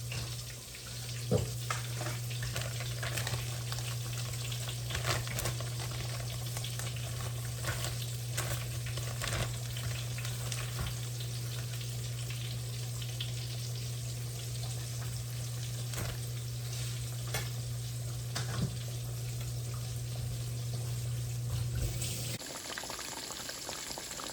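Fish frying in oil in a pan for a Southern-style fish and spaghetti meal, a steady bubbling sizzle with a strong low hum underneath and occasional crackles, cutting off near the end.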